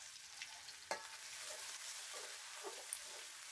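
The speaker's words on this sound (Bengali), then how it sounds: "এখন কিন্তু আমি কড়াইতে তেল দিয়ে আবারও পেঁয়াজ কুচি, রসুন কুচি এইগুলা দিয়ে কিন্তু ভেজে" Chopped onion and garlic fry in oil in a wok with a constant bright sizzle, broken by a sharp clack from stirring and a few softer scrapes.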